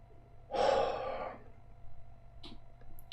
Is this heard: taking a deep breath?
yes